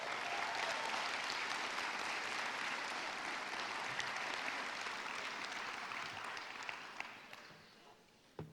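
A large crowd of high school graduates and guests applauds at a 2021 graduation ceremony, a dense, continuous roar of clapping that holds steady before gradually thinning and fading out near the end.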